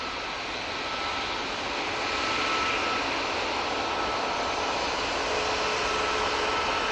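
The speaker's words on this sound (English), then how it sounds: "Etihad is here already. There we go, just got the touchdown" An Etihad airliner touches down at Manchester Airport, a continuous broad hiss of jet engine roar from some distance, steady and moderate in level throughout without voices.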